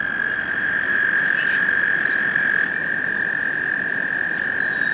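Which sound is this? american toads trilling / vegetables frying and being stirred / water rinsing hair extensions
american toads trilling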